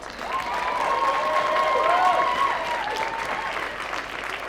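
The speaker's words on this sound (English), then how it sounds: "a huge round of applause to our incredible community of sponsors" Audience at a live stage show breaks into applause for its sponsors, a sustained, dense crowd clapping that swells and then eases slightly, with a brief whistle-like tone riding on top.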